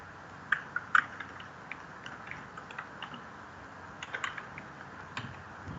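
A command typed on a computer keyboard: a run of light, close key clicks in uneven bursts, some taps louder than others, with no talking.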